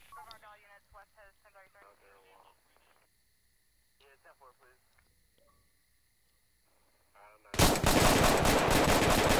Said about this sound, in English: Gun, gun, gun! Shots fired, shots fired.